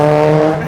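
A drift car engine roars loudly and close in a brief, steady tonal blast that eases off slightly at the end.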